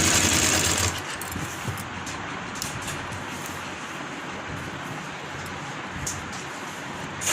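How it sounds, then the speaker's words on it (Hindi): A sewing machine stitches a folded kurti sleeve, giving a steady mechanical running hum with faint rhythmic needle ticks after a brief louder burst at the start. "उसके बाद मैं इस पर पक्की सिलाई लगाऊँगी।"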